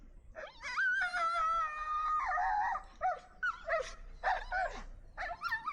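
A reactive dog barking aggressively, yelping and whining in rapid, high-pitched bursts, close and loud, with long strained howl-like cries between sharper yaps.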